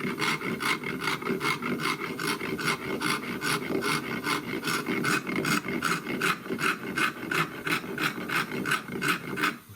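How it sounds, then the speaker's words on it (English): Rhythmic back-and-forth rasping of sandpaper on a wooden rifle stock for a Tikka T3, steady strokes about twice a second, close and fairly loud with no talking. "the rest of sandpaper and sanding is just to get those marks out"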